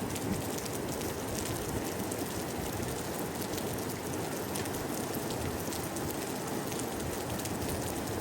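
Steady typhoon rain falls in a constant, even hiss, with drops pattering on surfaces and no voices.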